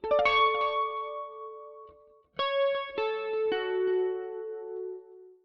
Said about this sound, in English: really getting that nice clean chorus thing going on